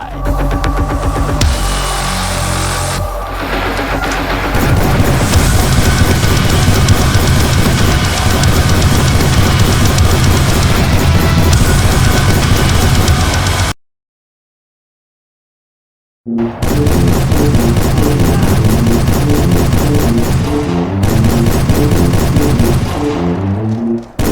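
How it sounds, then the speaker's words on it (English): Rapid continuous Gatling gun fire from a History Channel first-person shooter video game, loud and sustained, with a roughly three-second silent gap midway before the barrage resumes. "Take over the big Gatling gun, son. Mow down anything that isn't already dead."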